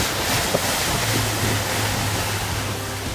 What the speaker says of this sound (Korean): 시원 시원하게 보트가 계속 질주하는군요.